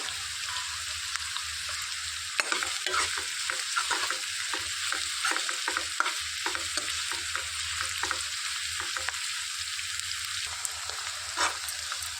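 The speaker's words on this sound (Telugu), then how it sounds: "ఇందులోనికి పచ్చిమిర్చి కూడా వేసుకొని వేయించుకోవాలి." Thinly sliced onions and green chillies fry in hot oil, giving a steady close sizzle with scattered crackles and stirring scrapes. The curry includes ridge gourd and dried prawns.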